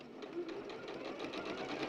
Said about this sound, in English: the only bit of machine sewing that you need to do